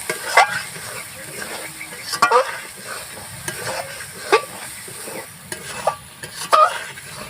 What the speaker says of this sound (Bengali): ভালোভাবে একটু নাড়াচাড়া করে নিই